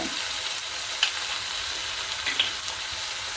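Vinegar hitting a hot frying pan for Chinese egg chilli, a dense steady sizzle close by with a couple of faint clinks of a spoon.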